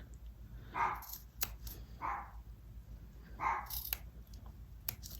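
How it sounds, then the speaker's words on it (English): A dog barks three times at a moderate distance, spaced a second or two apart, over a quiet background with a few small clicks. "And there she goes, barking."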